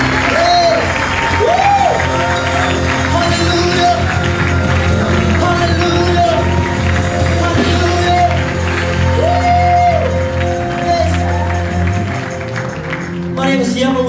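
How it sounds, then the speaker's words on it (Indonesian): Congregation applauding at a church Christmas celebration, steady broadband clapping from a crowd that runs throughout, under sustained musical tones and some voices. "Mari saudara kasih tepuk tangan yang meriah buat Yesus kita yang paling ini"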